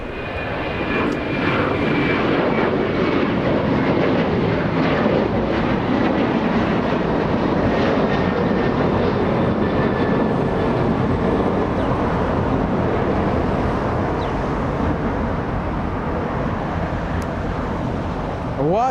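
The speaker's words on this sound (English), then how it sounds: "Delta 1259 flying to New Orleans, the next departure, and it is a 737-900." Delta Boeing 737-900 jet departing Los Angeles International Airport, a loud sustained engine roar with a steady rushing whine that holds throughout, with a voice talking over it at times.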